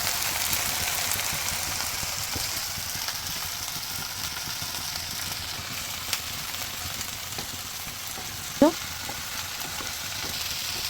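Leafy greens (boitta shak) fry in a pan while being stirred with a spatula, a soft continuous sizzle with light scraping and one brief sharper clatter near the end.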